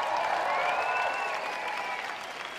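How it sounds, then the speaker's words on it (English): Applause and cheering from a large crowd at a Breakin' Convention dance event after a popping performance, a steady loud wash of clapping and voices throughout. "Noise for UDP"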